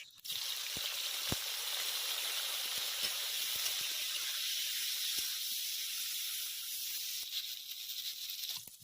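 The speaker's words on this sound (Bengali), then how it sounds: "এবার আমি ভেন্ডিগুলো ভেজে নেব।" Okra (bhindi) frying in hot mustard oil in a kadai, giving a steady, loud sizzling hiss that holds throughout, with a few small pops and spits and no voices.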